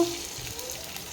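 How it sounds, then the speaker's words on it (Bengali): Onion and green chili frying in oil in a wok give a steady close hiss and sizzle lasting the whole short moment, with faint stirring underneath. "এই যে কড়াইয়ে তেল দিয়ে দিলাম এবার পেঁয়াজ আর লঙ্কাটা দিয়ে দেব"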